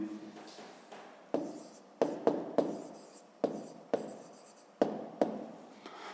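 Pen or pencil writing out a maths answer by hand on paper for a fifth-grade exercise, a series of sharp taps and short scratching strokes in irregular bursts, close and fairly quiet, with no talking.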